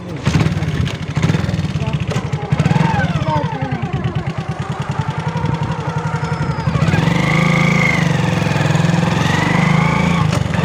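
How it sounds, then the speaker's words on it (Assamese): A motorcycle engine hums steadily and loudly while riding along a road toward Daragaon, its low throb rising slightly in the last few seconds. "এখন বাইকত আমি যাওঁ"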